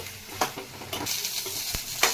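Brinjal pieces frying in a pan for a yogurt chutney, a steady close sizzle broken by several sharp scrapes of a spatula stirring the pieces.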